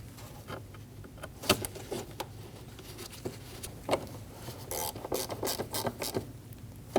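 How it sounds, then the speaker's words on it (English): A hand ratchet clicks in short, irregular bursts while snugging bolts on the front air dam of a Volkswagen Passat, the quick pawl ticks fairly close and fading in and out. "Snug the bolts down."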